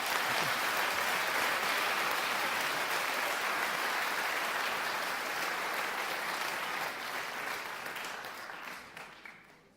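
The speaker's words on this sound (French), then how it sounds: "Vous pouvez l'applaudir." A student speaking contest in France draws sustained audience applause, dense clapping of a full room that stays steady for several seconds, then thins and fades toward the end.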